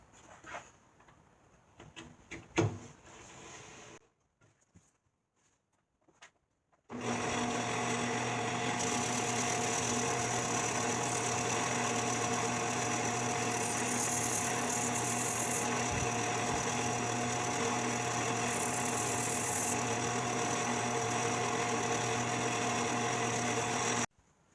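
Wooden toaster tong pieces sanded at a 5-degree angle on a power sander: after a few seconds of quiet handling knocks the machine starts and runs as a loud steady hum with grinding, alone with no speech.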